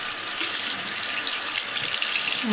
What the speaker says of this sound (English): I don't know if you can see the water that's going down the drain